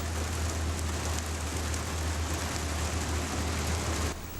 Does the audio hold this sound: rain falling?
yes